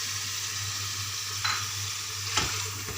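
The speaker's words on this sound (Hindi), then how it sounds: "अब मैं इसके अंदर दही डालूँगी।" Yogurt stirred into meat masala frying for aloo gosht, a steady low sizzle under occasional scraping strokes of a spoon against the pot, close and moderately loud.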